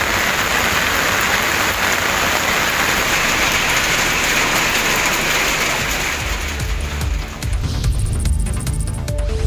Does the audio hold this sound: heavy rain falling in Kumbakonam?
yes